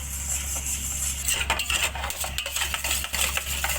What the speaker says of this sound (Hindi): आपने चम्मच को लगातार चलाते रहना है जब तक कि खोया हमारा रेडी ना हो